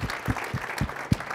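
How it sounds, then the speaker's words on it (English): Conference audience at a security talk breaks into applause: a short burst of clapping with irregular louder claps, moderately close, no talking over it. "I think we should just actually give a round of applause to all the people who have come here today from far away."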